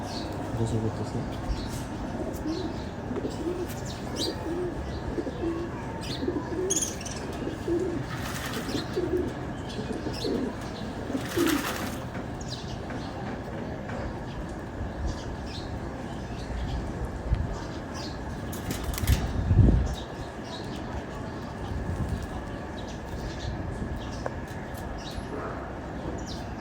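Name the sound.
pigeons bathing in water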